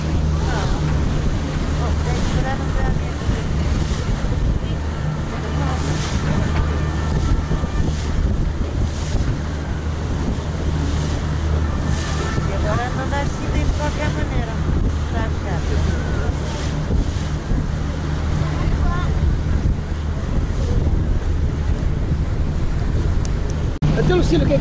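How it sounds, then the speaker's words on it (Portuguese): Strong wind buffets the microphone aboard a daytime sightseeing cruise boat on the Seine in Paris, a constant roaring rush with water and engine noise beneath and occasional voices. "Está muito frio e muito vento."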